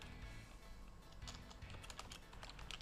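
Rapid typing on a computer keyboard, quiet scattered key clicks that pick up in the second half over a steady low hum, with no talk.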